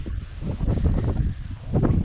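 Strong wind pounds the microphone in heavy low rumbling bursts, loud and close, with a brief lull midway.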